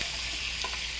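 Onion stir-frying in cooking oil and sesame oil in a preheated pan for spicy squid-and-pork bulgogi, a steady close sizzle with a brief stir near the end.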